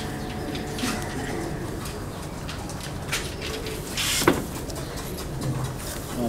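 Breeder pigeons coo softly in their loft, a few low murmuring calls spread over several seconds against faint background noise, with a brief brighter sound partway through.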